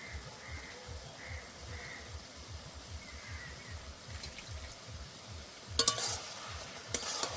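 Tomatoes tossed into frying cabbage for a Kashmiri-style dish are stirred with rhythmic scraping strokes under a low sizzle, a couple of sharper clatters near the end, no one speaking.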